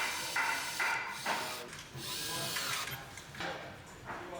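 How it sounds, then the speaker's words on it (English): A power drill whines in repeated short bursts, boring through copper with a harsh, high buzzing texture, close by and fairly loud. "used a proper drill to go through the copper."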